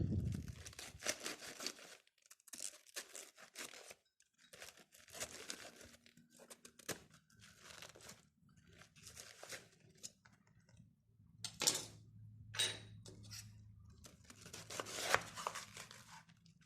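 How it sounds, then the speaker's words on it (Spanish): A knife chops cabbage and cuts out its core on a board. Irregular bursts of crisp, crunchy slicing repeat throughout with short pauses between them, close and fairly quiet, with no talk. "Ahora vamos a picar el repollo, vamos a quitarle lo que es el corazón"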